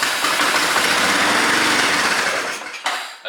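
Engine of a vintage Yamaha Moto4 ATV running loudly up close with a rough, buzzing small-engine rattle, then dying away near the end.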